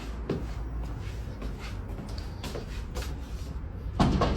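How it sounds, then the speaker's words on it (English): A bedroom door that was fully open slams shut hard in a single loud, close bang near the end, after a few seconds of quiet, shuffling room noise. "The bedroom door, which had been fully open, slams shut on its own with serious force"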